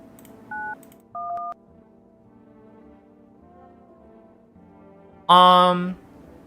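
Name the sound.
telephone keypad dialing tones in a video game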